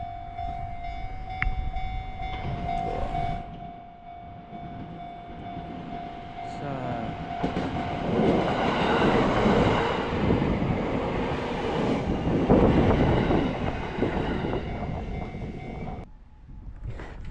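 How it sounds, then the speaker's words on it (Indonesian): A train rumbles past a level crossing in Japan, swelling to a loud, broad roar with rhythmic wheel clatter before fading, preceded by a steady tonal warning hum. "Ada kereta lewat guys."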